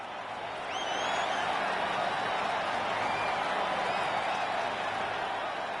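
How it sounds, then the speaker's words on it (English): A virtual crowd in the World of Outlaws dirt-track racing game keeps up a dense, steady roar of cheering and chatter that swells slightly after the first second and holds at an even level. "Jeez, the crowd is annoying actually"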